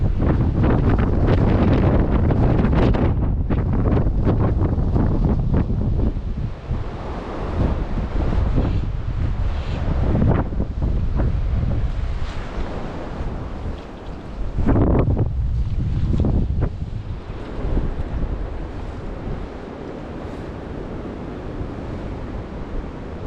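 Strong wind buffets the microphone beside the River Spey in Scotland, a loud continuous roar with gusty surges and dips, mixed with rushing water, no voices.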